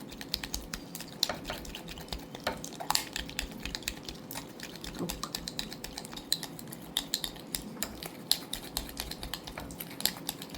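Butter being mixed and beaten in a bowl for eggless custard cookie dough, a steady run of quick close scraping and clicking strokes without any talk.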